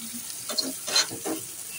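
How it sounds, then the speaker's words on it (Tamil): Onions sizzling in a pan for prawn thokku, a soft continuous frying hiss with a few gentle stirring swells, close and moderate, no voices. "இந்த வெங்காயம் வந்து நல்லா வேகணும்."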